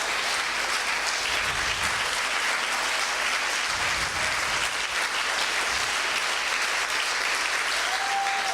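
Audience applause rings out at the closing ceremony of the 2018 Urantia International Conference, a sustained, even roar of many hands clapping that holds steady and loud from start to finish.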